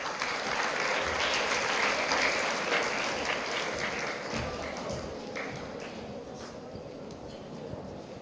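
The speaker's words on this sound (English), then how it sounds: "please join me in welcoming Mr. James Mattam with a round warm of applause" An audience applauds steadily to welcome a speaker at a school pentathlon event, a dense wash of many hands clapping that fades slightly toward the end.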